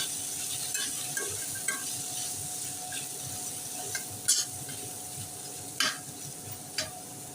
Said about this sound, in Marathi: अर्धा चमचा लाल मिरची पावडर पाव चमचा हळद चवीनुसार मीठ परतून घेऊया